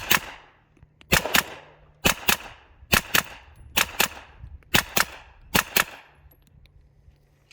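Pistol caliber carbine fired at a shooting range, sharp close shots in quick pairs repeated at a steady pace, about a dozen reports over several seconds.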